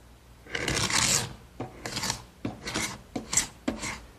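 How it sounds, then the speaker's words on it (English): An ordinary paint scraper rasps across a glued-up oak panel, removing squeezed-out glue in several firm, separate strokes, close and dry with short pauses between. "the first thing I want to do to this piece is scrape off the excess glue that's squeezed out"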